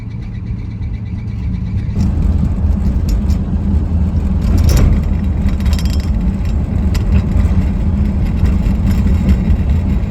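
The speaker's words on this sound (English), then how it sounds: "these belts sound like they're going to die" Steady, loud engine drone from a 1958 Plymouth Plaza with a flathead six, worn belts adding a harsh, continuous whine over the running motor, heard close up with no talking.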